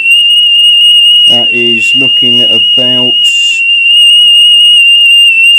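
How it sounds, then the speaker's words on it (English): A 3 kHz test tone plays from a Panasonic SG-J555 boombox as a loud, steady, piercing whistle that lasts the whole stretch, while someone speaks briefly over it. "on a 3 kilohertz signal"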